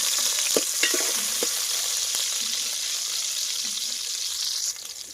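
Green chillies and curry leaves sizzle in hot oil, a bright, steady hiss close to the ear with a few faint knocks and clatters underneath.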